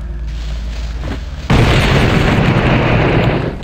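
A loud explosion from a video game erupts suddenly and booms on as a broad sustained rumble, after a quieter stretch of low background hum.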